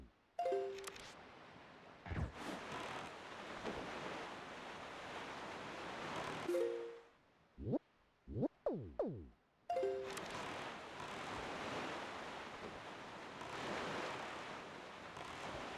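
While sailing in The Legend of Zelda: The Wind Waker, a broad rushing wash of ocean surf and wind swells and fades. It drops out midway for a burst of sharp swooping game tones, then the rushing sea returns.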